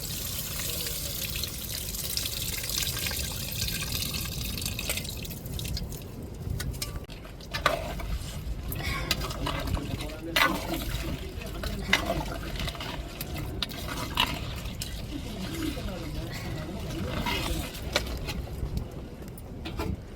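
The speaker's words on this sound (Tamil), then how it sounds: "இப்போ கரைச்ச புளி தண்ணி சேர்த்துக்கிடுவோம்." Dissolved tamarind water pours and splashes into a pot of crab curry, a continuous liquid rush with occasional clinks of utensils, and a voice talks over it.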